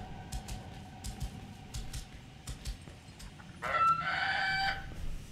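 A bird in Lord of the Rings: Gollum lets out a harsh, crowing squawk that lasts about a second, over a low background rumble with faint scattered taps.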